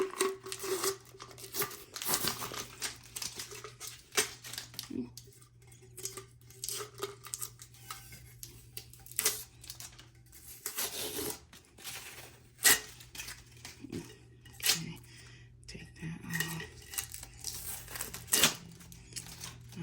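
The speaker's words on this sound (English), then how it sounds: "We're gonna unwrap this right here." Plastic packaging being unwrapped from a sublimation tumbler: close crinkling and tearing bursts come in an uneven rhythm over a low steady hum, with no voices.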